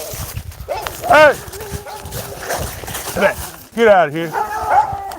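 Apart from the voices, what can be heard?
dogs barking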